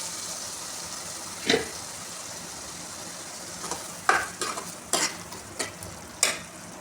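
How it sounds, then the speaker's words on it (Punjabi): Masala roasting in oil in a pan for a mushroom curry, with a soft steady sizzle and a few scattered clinks and scrapes of a spoon stirring, close and fairly quiet. "ਅਸੀਂ ਮਸਾਲੇ ਨੂੰ ਉਦੋਂ ਤੱਕ ਭੁੰਨਾਂਗੇ ਜਦੋਂ ਤੱਕ ਇਹ ਤੇਲ ਨਹੀਂ ਛੱਡ ਦਿੰਦਾ"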